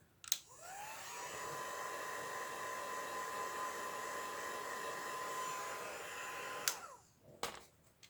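A hair dryer blows over alcohol ink artwork, switching on with a brief click and running as a loud, steady whir for about six seconds before shutting off, followed by a couple of small handling knocks.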